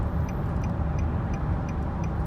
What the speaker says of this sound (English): As I use the blinker to turn,